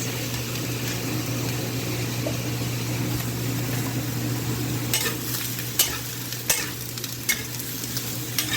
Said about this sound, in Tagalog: Lagay naman natin ang ating string beans.